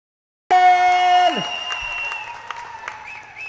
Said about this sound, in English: can we have a big round of applause for Delhi Hoopers